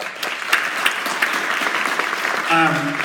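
A crowd at a cultural district announcement claps steadily in a burst of applause, fairly close, with a voice starting to speak at the very end.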